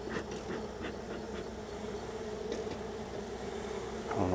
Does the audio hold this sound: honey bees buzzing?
yes